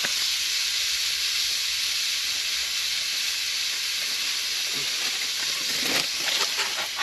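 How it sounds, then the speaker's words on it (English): Shrimp sizzling in a pan on a Camp Chef Deluxe stove at a stealth camp, a steady loud hiss running the whole way with a few brief pops and crackles near the end. "Alright, I'm gonna go ahead and throw in the shrimp."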